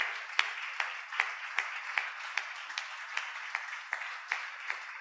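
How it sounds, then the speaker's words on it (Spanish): A church congregation claps in a steady rhythmic beat, sharp regular claps about twice per second over a softer bed of scattered clapping, moderately quiet. "Vamos a darle la gloria solo a Él y un fuerte aplauso porque solo Él se lo merece."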